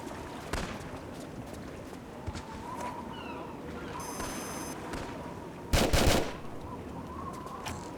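Desert Eagle pistol shots in the Tomb Raider remastered game, a few sharp reports spread through a busy game soundscape, with one loud burst near the end standing out above the background.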